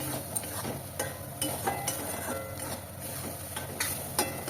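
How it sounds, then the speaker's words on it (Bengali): Spice paste stir-fried in a pan with green chillies while cooking a spinach and peas malai curry, giving a steady soft sizzle with intermittent scraping strokes of a spatula against the pan. "সেই পেস্ট করে রাখা মশলাটা দিয়ে দিলাম আরও কিছুক্ষণ আমি কষিয়ে নেব"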